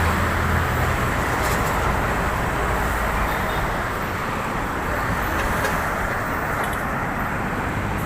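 Steady, loud roar of road traffic along Manila Bay, a continuous wash of passing vehicles with no distinct individual pass-bys and no voices.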